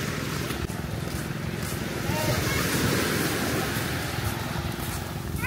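Sea waves wash steadily onto a beach in a broad continuous roar with a slight swell in the middle, fairly close and loud.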